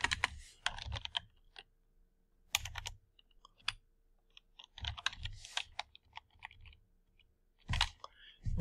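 Quiet, irregular bursts of keystrokes on a computer keyboard as a git squash command is edited, with short pauses between the flurries of clicks and no talking.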